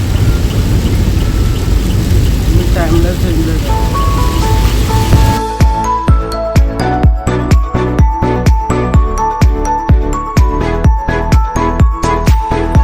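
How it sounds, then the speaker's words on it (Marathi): Heavy rain during a drive from Mumbai toward Alibag near Panvel, a dense continuous wash of rain and road noise that gives way to rhythmic clicking beats, with brief talk. "हा बेकार पाऊस आहे."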